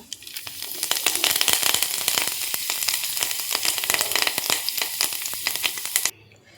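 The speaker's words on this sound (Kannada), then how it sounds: "ಚಟ್ನಿಗೆ ಒಂದು ಒಗ್ಗರಣೆ ರೆಡಿಯಾಗಿದೆ ಈಗ ಆ ಚಟ್ನಿನ ಈ ಪಾತ್ರೆಗೆ ಹಾಕ್ಬಿಡ್ತೀನಿ" Hot oil tempering of urad dal, mustard seeds, cumin and curry leaves hits coconut chutney with a loud burst of sizzling and rapid crackling pops, then cuts off abruptly.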